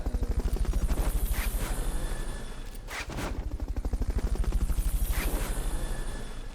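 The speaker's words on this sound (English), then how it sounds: "So yeah, Fulton recovery is pretty cool, and they just shoot up into the sky, and then they get picked up by a helicopter" Helicopter rotor chopping from a Fulton recovery extraction in Metal Gear Solid: Peace Walker, a loud, steady rhythmic thumping that runs the whole time, dipping briefly midway before resuming, with no talk.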